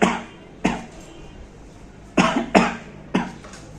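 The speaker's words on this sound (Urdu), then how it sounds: "یہ کوہنی یہ اس کو بینڈ کریں اور اس طرح کھانسے" Several sharp coughs into a bent elbow, demonstrating coughing etiquette: a single cough, then a pair close together and a last one, each loud, close and separated by quiet pauses.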